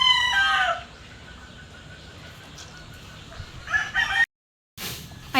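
Roosters crow nearby, one loud call at the start and another near the end, with faint background noise in between.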